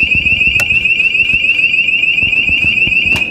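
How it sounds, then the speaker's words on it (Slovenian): A public alarm siren blares continuously in an office building at a business reference centre, a steady loud piercing tone running throughout with a few faint background knocks. "Javna alarma."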